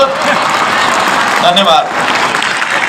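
An audience applauds at a Gita Jayanti ceremony in Haryana, a broad, even clapping wash lasting throughout, with someone speaking over it.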